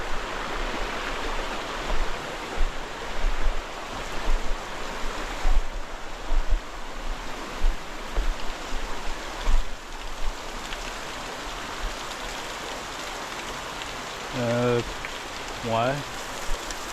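Continuous splashing and rushing of a small waterfall nearby on a hiking trail, a steady broadband hiss, with a couple of short voices near the end.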